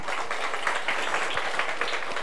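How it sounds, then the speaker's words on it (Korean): A church congregation claps in a steady, fairly soft patter of many hands that fills the room evenly, with no one speaking over it. "오늘 여러분들이 저를 위해서 박수 쳐줘야 해요"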